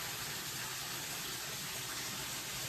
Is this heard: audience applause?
no